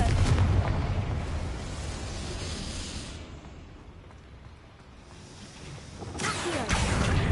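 A Confringo blasting spell from a video game bursts in loud, broad explosive rumbles at the start and again near the end, with a quieter rumbling stretch between.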